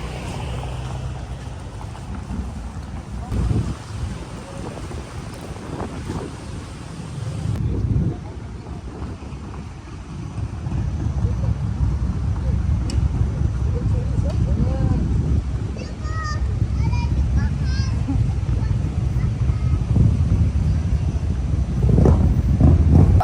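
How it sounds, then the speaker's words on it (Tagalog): Strong wind at Umbrella Beach in Fujairah, loud continuous buffeting and roar across the microphone that grows heavier midway, with brief faint voices in the background. "Tapos ang lakas-lakas ng hangin."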